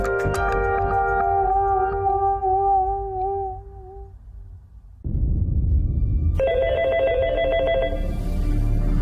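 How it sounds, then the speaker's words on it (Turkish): A telephone rings at a fire station with warbling electronic tones, stops, then a buzzing ring pulses again over a louder background rumble. "İtfaiyeciler için çalan her telefon yeni bir macera demek."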